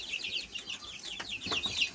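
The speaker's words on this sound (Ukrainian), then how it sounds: "якісь такі не дуже великі курчатка, можливо, це корички будуть" Newly hatched chicks in an incubator during a hatch give rapid, high, repeated peeps in a close and fairly faint chorus, with a few light taps or shuffles.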